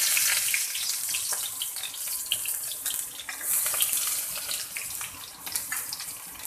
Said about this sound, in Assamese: তেলখিনি গৰম হৈ গ'ল। ইয়াত দি দিম এই খুন্দি লোৱা নহৰুকেইটা, প্ৰথমতে দি দিম।